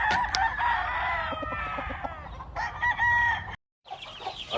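A pure chocolate bull stag rooster crows loudly and close by in a long, wavering call, with a second shorter crow following a brief silence near the end.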